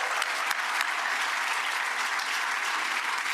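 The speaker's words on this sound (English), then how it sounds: "Let's give them a round of applause, folks." A Rotary club audience applauds honorees at a meeting, a dense, even wash of clapping that holds steady from start to finish with no talk.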